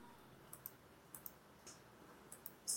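A computer mouse clicks while a polygon is drawn in QGIS, with faint, crisp clicks arriving singly and in quick pairs over a quiet room hum and no talking.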